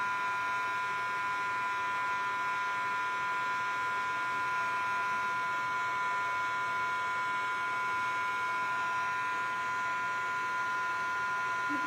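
A handheld heat embossing tool melts embossing powder on a Stampin' Up! leaf card until it turns shiny, giving off a steady, continuous electric whir with a bright tonal buzz that stays even and close throughout.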